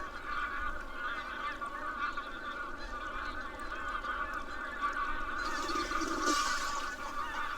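A flock of ducks feeding on a river, hundreds of birds, honks and quacks in a dense, continuous chatter from moderate distance, growing a little louder toward the end.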